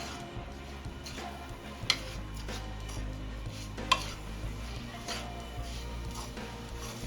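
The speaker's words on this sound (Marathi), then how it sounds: "गुळ व्यवस्थित मिक्स करून घ्यायचा आहे ओल्या नारळाच्या किस सोबत" Jaggery is stirred with grated fresh coconut in a pan, a steady soft scraping and faint sizzle running throughout with two sharp clinks of the utensil against the pan.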